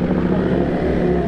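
A motorcycle engine runs steadily nearby at a race track, a continuous loud drone with a rough low rumble and no clear revving.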